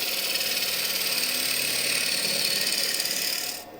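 A woodturning tool makes peeling cuts on elm spinning on a lathe, giving a steady, loud, close hiss and scrape that runs without a break and fades out at the end.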